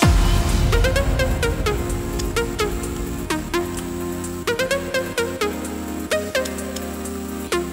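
Break section of an electronic music track: after a booming low hit, layered synth chords and plucky rhythmic notes play at a steady medium level, sparser than a drop, with no voices.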